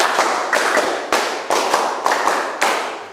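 Hands clap a counted rhythm pattern in a classroom exercise, sharp claps grouped in short bursts with pauses between groups, fairly close and clear with no talking.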